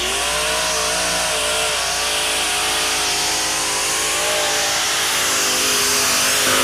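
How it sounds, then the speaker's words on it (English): A heavy modified tractor-pull machine powered by three engines revs in a loud, continuous, dense roar that swells slightly toward the end, with no talk over it. "Here comes our other heavy triple. Let's see what he does. 3 engines."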